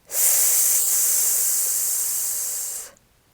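A single long, breathy hiss of an exhale, the qigong lung healing sound, lasting about three seconds, close and steady before trailing off into quiet.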